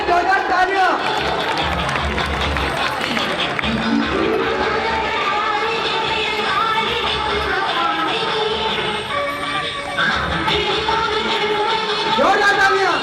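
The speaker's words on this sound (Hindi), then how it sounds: "जोरदार तालियां बजाएंगे।" Large crowd clapping in steady rhythm at a Hindu Mata Rani devotional chowki, continuous and loud, mixed with music and a singer's voice throughout.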